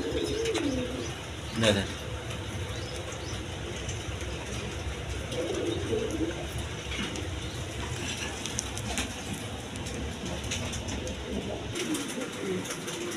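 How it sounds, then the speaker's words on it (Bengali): Domestic pigeons of several breeds, kept for breeding eggs and chicks, coo repeatedly at close range in soft low murmurs, some chirps mixed in, while someone talks over them. "বিভিন্ন ধরনের কবুতর আছে।"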